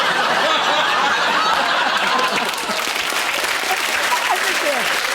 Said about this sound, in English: These young women in the front row clapping and laughing because they don't believe you.